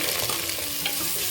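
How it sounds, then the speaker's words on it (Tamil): Sliced onions, two large ones, frying in oil and being stirred in a pan for home-style biryani, a steady close sizzle with soft scraping from the stirring, continuous and alone. "வெங்காயம் நல்லா ரோஸ்ட் ஆகட்டும், அது வரைக்கும் நல்லா வதக்கிக்குவோம்."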